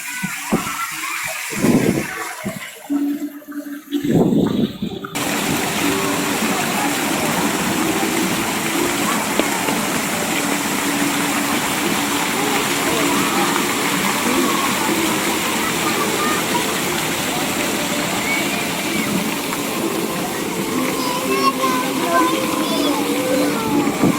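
Running water people are collecting on a public square pours in a steady, loud rush that fills the scene after a brief stretch of nearby talk and movement.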